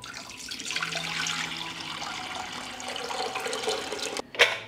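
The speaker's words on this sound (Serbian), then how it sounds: "U lonac ću sipati litar tople vode." A litre of warm water pours into a pressure cooker holding glass jars, a steady close splashing stream that runs for several seconds before a sharp knock at the end.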